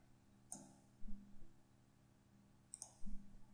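A computer mouse gives a few sharp, close clicks in two small pairs roughly two seconds apart, over a quiet hum in content-editing software training.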